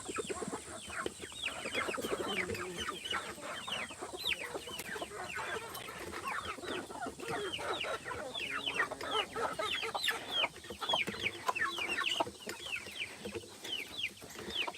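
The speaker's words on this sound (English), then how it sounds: "let y'all see the mother hen and the babies" A mother hen clucks with her chicks in a farm pen, the chicks giving a dense run of rapid, high peeps over her soft, low clucks, fairly faint and steady with no talking.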